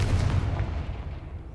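A Confringo blasting spell in a Harry Potter video game lands as a deep, booming blast that decays quickly into a low rumbling tail.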